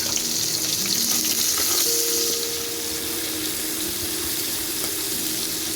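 Onions fry in hot oil with cumin, a steady close hiss and crackle that runs without a break, loudest at first and then settling a little.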